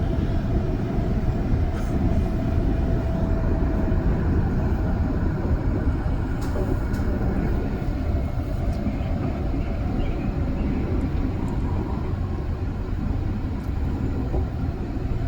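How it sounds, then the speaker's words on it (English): A REM light-rail train passes in the opposite direction during a night ride between Brossard and Île des Sœurs, a loud continuous rumble and rushing roar with faint metallic squeals, heard from inside the moving car. "There we have another train coming in the opposite direction."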